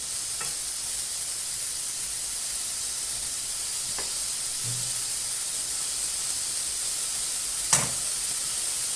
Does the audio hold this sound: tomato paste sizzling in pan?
yes